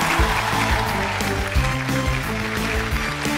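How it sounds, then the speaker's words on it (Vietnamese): Studio audience applauding on a Vietnamese TV game show, a steady dense wash of clapping with rhythmic music thumping underneath throughout. "Vỗ tay thật nhiều đi ạ."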